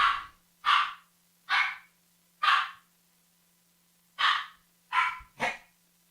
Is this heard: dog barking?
yes